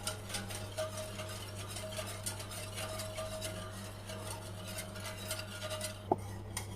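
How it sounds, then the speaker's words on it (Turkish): Steady scraping and swishing of a utensil stirring milk pudding (muhallebi) in a cooking pot, a continuous close rhythm over a low hum, with a sharp clink near the end. "Muhallebimizi karıştırarak pişiriyoruz arkadaşlar."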